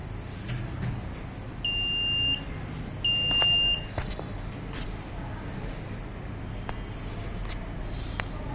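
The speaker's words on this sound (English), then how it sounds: "there will be a beep buzzer indicating the kit got started, initialized" Two sustained electronic buzzer beeps from an electronic kit starting up sound about a second apart, each lasting roughly half a second, followed by a few soft clicks over a low hum.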